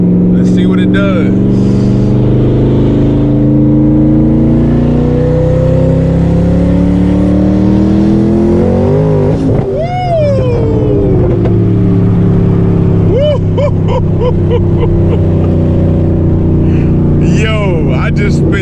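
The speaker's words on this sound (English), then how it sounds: "That was just a quick little third gear pull to merge into the highway." A twin turbo Ford Boss 302 Mustang running about 10 pounds of boost accelerates hard in third gear while merging onto a highway. A loud, sustained engine roar rises in pitch with turbo whistles, heard close from inside the car.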